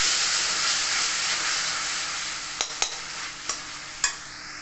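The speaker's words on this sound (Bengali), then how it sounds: "আবার মশলাকে ভালো কষিয়ে নেবো" Spice paste mixed with two spoons of yogurt hisses and sizzles loudly in a pan for several seconds, with a few sharp clicks of a spoon scraping and stirring near the end.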